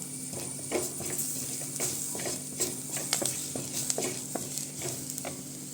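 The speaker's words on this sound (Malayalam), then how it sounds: "ഇതിലേക്ക് നമ്മൾ എടുത്തു വെച്ചിരിക്കുന്ന തക്കാളി ചേർത്ത് കൊടുക്കാം കൈവിടാതെ ഇളക്കി കൊടുക്കണം" Tomatoes frying in a pan for a fish curry are stirred constantly, with a soft steady sizzle under repeated close scrapes and light clinks of a spoon against the pan.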